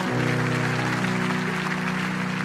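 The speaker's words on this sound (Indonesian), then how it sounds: "Kasih tepuk tangan paling dahsyat." Congregation applause at a Christian worship service, continuous clapping spread across the room over sustained music, no talk on top.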